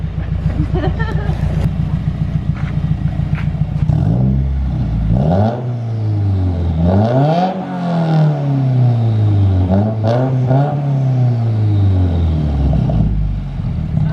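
A Subaru WRX fitted with an Invidia N1 race exhaust idles with a low burble, then revs up hard several times in a row, each loud rising roar falling back, close and without speech.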